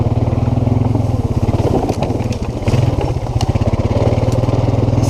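A quad ATV runs steadily through woods, its engine chugging loud and close with an even pulsing rhythm while it rolls over fallen trees and brush, with a few brief clatters along the way.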